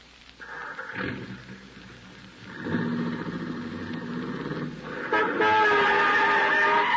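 Car horn honking and a running car engine in an old-time radio drama, with a steady engine hum under sustained horn tones that grow louder toward the end.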